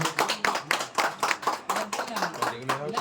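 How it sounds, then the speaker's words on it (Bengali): An audience claps at a Vivo V70 phone launch event, a close, steady patter of many hands continuing for the whole stretch, with voices mixed in underneath. "প্লিজ আরেকবার যদি সবাই মিলে একটু হাততালি দিয়ে রোহিত ভাইকে নামকে দেখতে"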